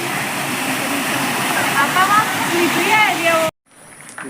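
Steady rushing water from a waterfall at a hillside temple pours nearby for a few seconds, a broad constant roar, then cuts off abruptly into quieter background.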